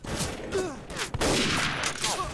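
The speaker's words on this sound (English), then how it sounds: "I'm getting shot at" Rapid bursts of gunfire in the World War II shooter game Day of Defeat, dense crackling volleys coming in waves over about two seconds.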